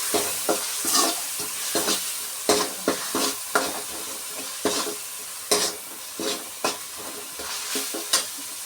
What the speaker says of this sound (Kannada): ಒಂದು ದೊಡ್ಡ ಈರುಳ್ಳಿ ಹಾಕ್ತಾ ಇದ್ದೀನಿ